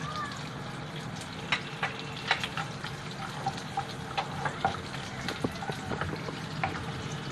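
Whole spices and cashews frying in hot oil in a pan for malai kofta gravy, giving a steady moderate sizzle with scattered pops and clicks of stirring throughout, no talking.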